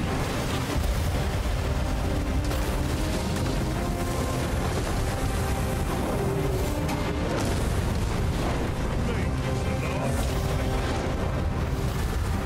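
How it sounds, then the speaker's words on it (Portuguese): Explosions in the video game Dragon's Dogma 2, a loud, continuous barrage of deep booms and bursts rolling one into the next, with a faint voice underneath. "Olha o tanto de explosão que vai dar."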